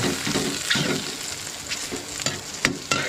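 Chicken pieces frying in a pan as the fat renders out, cooked for dinuguang manok: a close sizzle with repeated scrapes and clacks of stirring, a few sharp knocks near the end, no talking.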